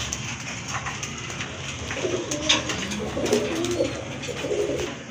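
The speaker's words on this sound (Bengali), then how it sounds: "এখানে কিন্তু আরেক জোড়া রাজগোল্লা কবুতর আছে" Rajgolla pigeons coo softly in low, rolling murmurs that repeat over a steady background hiss.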